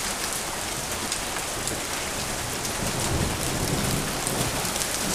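Heavy rain pours steadily during a big Wyoming storm, a dense, loud, continuous hiss close by with no talking.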